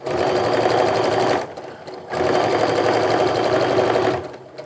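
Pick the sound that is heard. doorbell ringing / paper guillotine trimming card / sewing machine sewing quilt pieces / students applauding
sewing machine sewing quilt pieces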